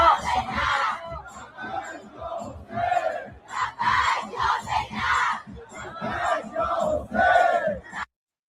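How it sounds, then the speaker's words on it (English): A large rally crowd in Tehran, many waving flags, chants and roars in rhythmic surging bursts, loud and sustained, with shouting voices rising and falling together for several seconds before cutting off. "Beautiful, beautiful crowd, so many flags, so many people in attendance."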